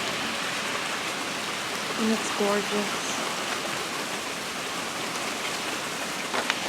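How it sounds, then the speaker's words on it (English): Steady rain hisses down outside an open car window, a dense even patter filling the air, while a person briefly speaks over it. "It's raining"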